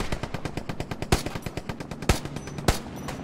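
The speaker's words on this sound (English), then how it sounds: "I hear shots in front of me." Gunfire in the World War II shooter game Hell Let Loose: rapid machine-gun bursts rattling in a steady rhythm, punctuated by three louder, sharper single shots, close and with no talk.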